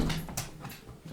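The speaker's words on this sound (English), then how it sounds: "I'm so sorry about my dogs." Pet dogs whimpering and whining nearby in short, uneven bursts, with some faint shuffling around them.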